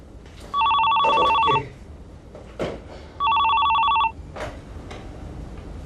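A telephone rings in two loud, trilling bursts separated by a short pause, heard close in a quiet indoor room with faint background noise between rings.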